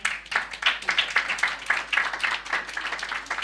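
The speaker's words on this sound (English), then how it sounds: "Let's welcome her with a round of applause" A crowd of listeners claps to welcome a speaker at a talk on organising for collective liberation. The applause is a dense, steady patter of many hands, close and sustained throughout, with no voices over it.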